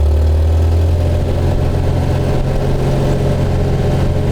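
An English sports car engine thrums loud and low from inside the car, a steady rumbling drone with a slight rise as it pulls away. No one speaks.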